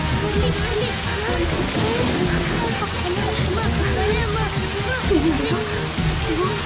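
Steady, heavy rain hisses all around, loud and continuous, while voices talk over it.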